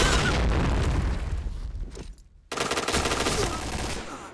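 A grenade blast in the shooter game Point Blank booms loud and dense amid rapid gunfire, dropping briefly to near quiet before another heavy burst of noise returns.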